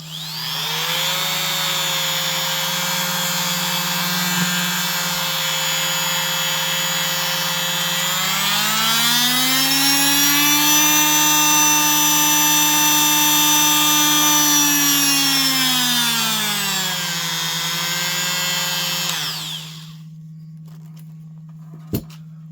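A Rockwell oscillating multi-tool hums with a steady high-pitched whine, its pitch rising midway, holding, then dropping before it switches off.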